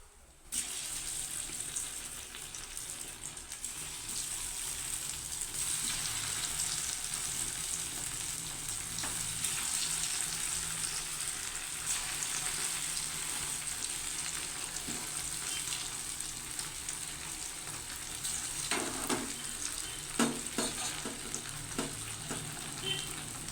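Pieces of taro or yam fry in hot oil with a steady, close, bright sizzle that holds throughout, broken near the end by a few scraping clinks of a ladle stirring.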